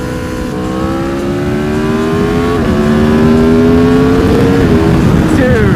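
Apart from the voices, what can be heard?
motorcycle accelerating fast on a race track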